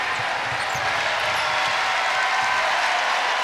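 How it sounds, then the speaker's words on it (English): Basketball crowd on its feet in the closing seconds of an NCAA tournament women's game, Kansas State at NC State, a steady roar of cheering and clapping filling the arena with no breaks. "Crowd on their feet."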